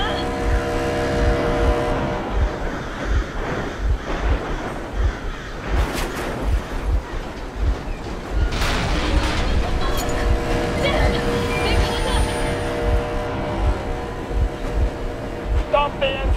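A vehicle engine idles in Metro Exodus set in post-nuclear Moscow, giving a steady, rhythmic low chugging that runs throughout, with faint clanks and other noises over it.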